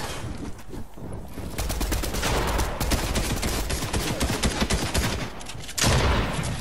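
Dense, rapid gunfire from a Fortnite Zone Wars match, sustained bursts rattling loud and close for several seconds with brief gaps, no talking over it.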